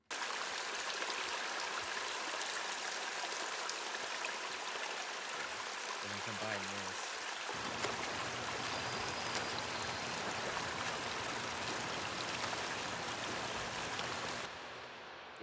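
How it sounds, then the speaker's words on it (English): A stream recorded on an iPhone runs as a steady broadband rush and trickle of water. A brief low tonal sound cuts in around the middle, and the flow drops slightly near the end. "The stream is actually an iPhone recording."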